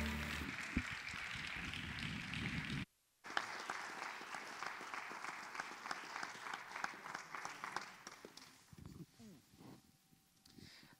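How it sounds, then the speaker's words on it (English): Audience applause fills a college benefit concert hall after a music performance, loud and sustained with a brief dropout, then thinning out as a voice speaks over the fading clapping. "Let's give them another round of applause"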